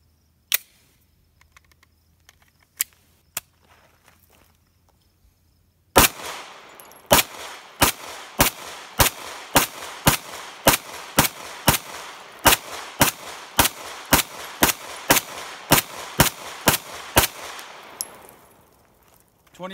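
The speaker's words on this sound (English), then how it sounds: "Now we're going to do a mag dump on this thing." A CZ P09 pistol fires a full magazine of about twenty rounds, sharp loud cracks in a fast, steady string at an outdoor range, after a few quieter handling clicks at the start.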